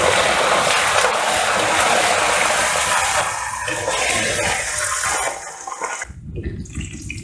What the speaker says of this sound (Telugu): కరివేపాకు కూడా వేసేసుకొని ఫ్రై చేసేసుకుందాం.